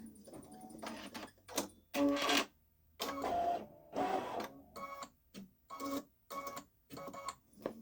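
A Babylock Solaris Vision embroidery machine stitches a patch, running in repeated short mechanical bursts separated by brief pauses, fairly close and steady in loudness.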